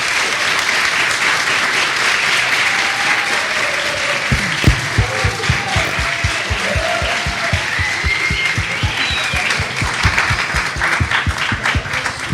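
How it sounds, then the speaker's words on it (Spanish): An audience at a public forum on reporting from war zones gives sustained applause that settles into a steady rhythmic clapping, with scattered crowd voices mixed in. "Un aplauso."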